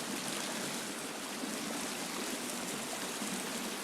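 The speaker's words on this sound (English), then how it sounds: "This has to be the waterfall cave" Water pours steadily inside a cave in The Forest video game, a continuous broadband rushing hiss with no pauses and no voices.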